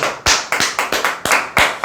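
Close, sharp claps ring out at the end of a lecture on call-center sales work, about nine loud strikes in a quick, fairly even rhythm, each clearly separated.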